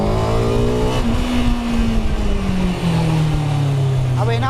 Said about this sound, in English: You drop it down the coal, this thing just winds up.